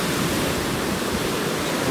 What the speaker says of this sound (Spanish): Sabes que está lloviendo, ¿no?